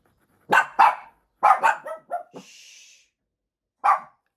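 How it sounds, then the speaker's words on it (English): Several sharp dog barks close by, two quick ones then a further cluster and a single late bark, with a brief high whine between them, in a quiet room. "Sorry about the dogs."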